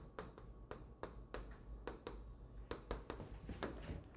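During an accounting lecture a hand writes steadily in short, regular strokes with faint scratchy taps, close and quiet, with no speech over it.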